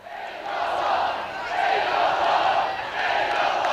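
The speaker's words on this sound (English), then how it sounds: "And listen to that crowd." A large crowd roars and cheers continuously and loudly at a 2025 Bendigo Football Netball League senior grand final between Sandhurst and Eaglehawk.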